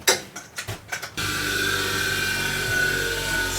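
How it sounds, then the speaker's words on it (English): A woodturning tool gets a quick sharpening: a few short scraping strokes lead into a steady, dense grinding roar that carries on without a break to the end. "I'm going to give this a quick sharpening."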